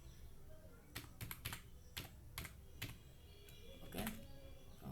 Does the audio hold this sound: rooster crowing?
no